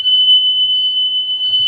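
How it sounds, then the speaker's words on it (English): Emergency exit door alarm on a school bus during a pre-trip inspection, a loud, steady high-pitched electronic tone holding unbroken for the whole stretch. "we make sure that alarm is going."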